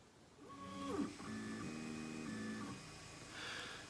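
An Anet A8 3D printer, running Klipper firmware, begins a print with a series of steady electronic stepper-motor tones that step up and down in pitch over a few seconds, fairly quiet and alone with no talk.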